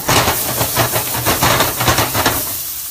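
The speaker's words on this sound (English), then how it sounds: "So it's steaming, that's fine, but not smoking." Hot oil hisses and sputters in a pan as shishito peppers blister, a loud, continuous sizzle with small irregular pops throughout that eases slightly at the end.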